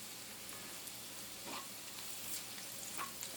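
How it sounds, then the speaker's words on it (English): Chopped bacon frying in a pan and being stirred, a soft, even sizzle with faint scraping swishes of the spoon now and then. "And you give it a good stir, which allows both sides of the bacon to evenly cook through"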